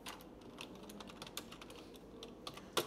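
Quick, irregular keystrokes on a computer keyboard while lorem ipsum placeholder text is typed, close and fairly quiet, with a sharper final key tap and no voices.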